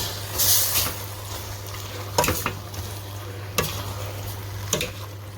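Crushed tomato stirred into one-pot vegetable pasta, with a low steady hum under three sharp spoon knocks against the pot spaced a little over a second apart, no voices.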